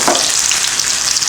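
Onion and garlic frying in hot sesame oil with mustard seeds and cumin, a loud, steady, close sizzle with crackling spatters throughout and no talk.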